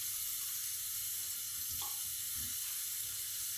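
Water runs from a tap over raw black soap to wet it for lathering, a steady close hiss with a brief splashy change midway.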